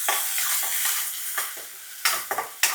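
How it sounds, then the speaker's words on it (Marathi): Finely chopped onion sautés in oil with mustard seeds, cumin, asafoetida and curry leaves. A hissing sizzle rises and falls as a spoon stirs, with several sharp clinks and scrapes of metal against the pan near the end. "आणि 1 बारीक चिरलेला कांदा. परतून घेऊया."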